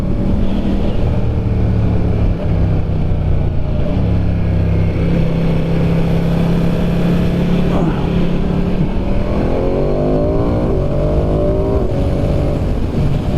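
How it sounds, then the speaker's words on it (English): A 2022 Ducati Diavel 1260S motorcycle accelerates hard through the gears, its loud engine note rising in steady sweeps under constant wind rush, with no talk. "that torque and HP really kick in with this bike"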